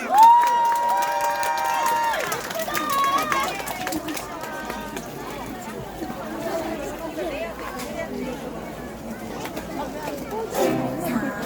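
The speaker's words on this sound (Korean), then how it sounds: "큰 박수 부탁드립니다" An audience at a village festival performance breaks into applause and cheering, with a crowd clapping and chattering for several seconds. A voice speaks briefly over it at the start.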